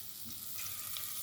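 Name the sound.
onions frying in a pan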